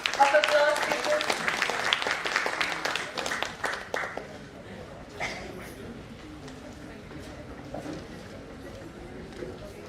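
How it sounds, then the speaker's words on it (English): Audience applause at an International Women's Day cultural event, a burst of dense clapping in the first few seconds that fades into quieter room sound and faint talk. "Please give them a very big round of applause, people."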